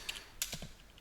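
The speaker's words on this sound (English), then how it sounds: "So let's do some typing here." Several quick keystrokes on a computer keyboard, light close clicks in an uneven burst, quiet and without speech.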